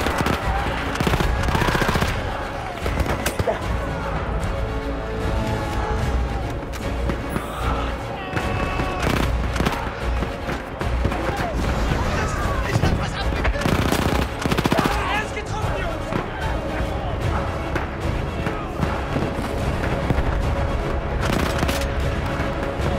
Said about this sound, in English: I guess you can only hip fire with this gun.